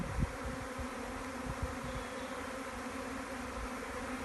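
A honeybee swarm being collected by a beekeeper hums in a continuous, low droning buzz, steady and fairly quiet, with a few soft knocks and handling sounds early on and no talking.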